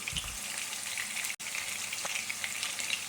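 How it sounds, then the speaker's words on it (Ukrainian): Chopped chicken cutlets fry in a pan with a steady sizzle, a continuous crackling hiss with a brief dropout partway through. "Ось так смажу всі котлетки з двох сторін до готовності"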